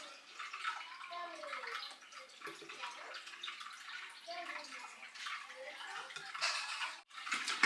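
A water fountain splashes continuously nearby, a steady bright spattering wash with small gurgles and drips, fairly faint and even, with no talking.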